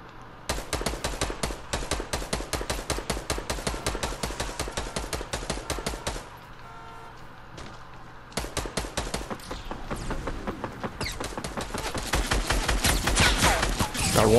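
Rapid gunfire in a battle royale video game, loud fast bursts of automatic shots, a short pause, then more sustained firing building to heavier, denser shooting.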